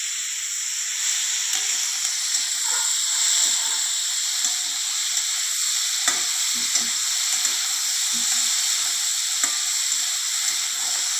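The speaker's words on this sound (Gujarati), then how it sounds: "નાખેલું તેલ અને જીરું મરચાં સાથે બરાબર મિક્સ કરી દઈશું" Capsicum sizzles steadily in hot oil with cumin in a pan, a constant bright frying hiss broken by occasional soft scrapes and taps of a spoon stirring, with no voices.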